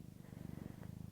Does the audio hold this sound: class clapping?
no